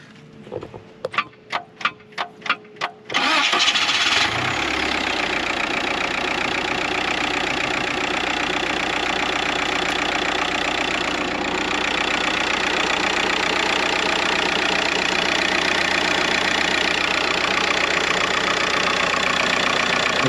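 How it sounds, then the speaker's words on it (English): Diesel engine in a swapped TJ Wrangler cranking with a fault: about three seconds of rapid, evenly spaced starter pulses, then a loud, steady, rough mechanical drone that carries on without a break, close up and with no talk. "something's majorly wrong. The motor doesn't want to spin."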